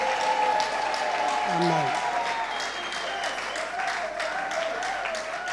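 Church congregation applauding and cheering together in a large hall, a steady dense wash of clapping that holds for several seconds, with voices calling out within it.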